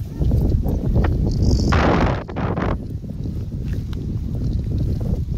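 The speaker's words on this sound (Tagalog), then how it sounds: "Grabe din yung hangin, sobrang lakas." Strong wind, a southwest monsoon gust in an open field, batters the microphone with heavy low roaring and buffeting, loud and close, swelling into a harsh burst before easing back to a constant rumble.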